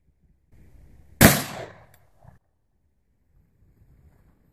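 A single sharp .357 Magnum hollow point gunshot cracks loud and close, followed by a short decaying echo and then near silence.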